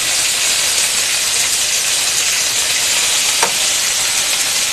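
Curry leaves crackle in hot oil in a pan for Kerala-style erissery, a loud continuous sizzle and hiss throughout with one brief sharp pop near the end.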